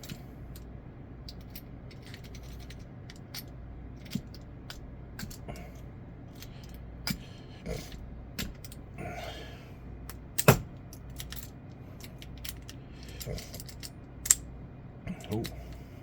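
Picking a Master Lock padlock, with faint scattered metallic clicks and scrapes of pick against pins and a few sharper ticks, close and quiet, with brief soft voice sounds in between.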